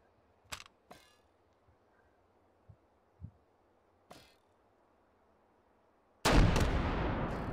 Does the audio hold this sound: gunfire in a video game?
yes